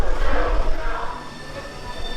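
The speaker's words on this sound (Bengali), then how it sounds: "চলো এখন 8টা বাজে, ধানবাদ ঢুকছে আমাদের ট্রেন" A train pulling into Dhanbad station rumbles loudly at close range, with a steady low roar of wheels and carriages and faint metallic squeal over it.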